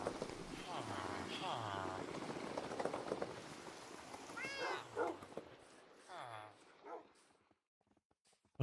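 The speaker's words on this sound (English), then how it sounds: "Oh, we get the sound of purring cats." Cats purring and mewing in the Minecraft video game, with several short chirpy meows that rise and fall over a steady murmuring background, then fade toward near silence at the end.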